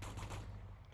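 Short burst of gunfire in Arma 3, a quick rattle of several close shots over about half a second, then fading into low rumble.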